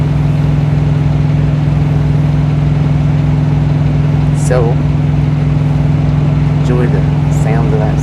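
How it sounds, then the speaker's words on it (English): Trucks passing outside a truck cab along a Utah–Idaho highway, heard as a steady low engine drone with a couple of brief whooshing pass-bys in the second half; a short spoken word comes near the start. "enjoy the sounds of outside, the trucks driving by"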